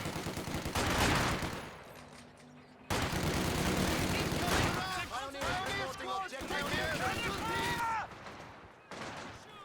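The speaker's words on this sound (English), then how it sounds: "good rotation of the machine gun from BaoLiang there." Bursts of machine gun fire and other gunfire rattle through a Company of Heroes 2 match, layered with battlefield effects while a commentator talks over the action.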